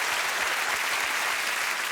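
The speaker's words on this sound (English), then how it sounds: "Round of applause for the Queen" Steady, dense applause from a television studio audience celebrating the Queen's 90th birthday, filling the space evenly from start to finish with no voices standing out.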